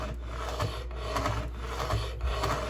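A file rasps along a ski's steel edge to take off the burr, short rhythmic strokes repeating about every half second, close and steady with no talking.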